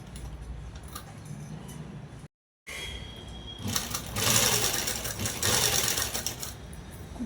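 Sewing machine stitching a long frock dress made from a saree, running in a steady rapid whir that cuts out briefly, then returns louder and denser for several seconds, close and alone.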